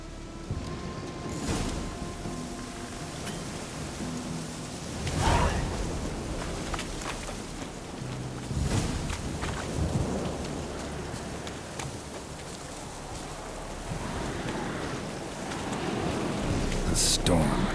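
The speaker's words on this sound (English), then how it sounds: "The storm, damn it." A thunderstorm in the video game Witcher 3 fills the scene with steady rain and low rumbles, swelling at intervals with louder gusts and crashes, and voices come through faintly.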